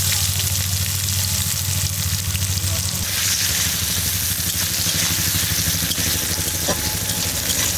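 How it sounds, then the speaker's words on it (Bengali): Onions frying in oil with bay leaf and whole cumin, in the same oil used to fry potatoes: a steady, loud sizzle with faint stirring scrapes throughout, no voices. "এবার পেঁয়াজটাকে লাল লাল করে ভেজে নেব"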